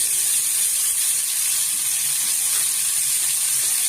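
Fresh coriander leaves hit a hot pan while a coriander chutney is made, giving a steady, close, bright sizzle with a hiss of steam that holds evenly throughout.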